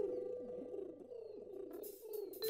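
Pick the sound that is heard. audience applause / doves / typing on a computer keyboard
doves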